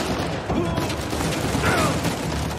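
Gunfire in the video game Uncharted 4, a busy run of shots and booms over a dense game soundscape, with a voice talking faintly underneath.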